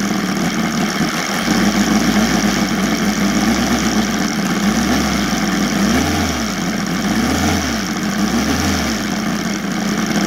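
An OS Sirius 7 FR7-420 radial model aircraft engine converted to gasoline with CDI ignition idles while taxiing, a steady close throbbing drone with slow rhythmic low swells toward the end.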